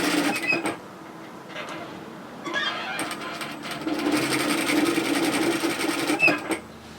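Sewing machine top stitching bib overalls in short runs: a brief burst, a pause, then a longer steady rattling hum with a few clicks before it stops.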